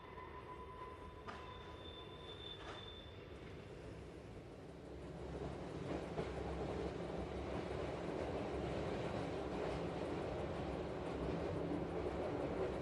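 A Swiss tram rolls along its track at a slow crawl, a steady rumble of wheels and car body under high, sustained squealing tones from the wheels that fade as the running noise swells and carries on.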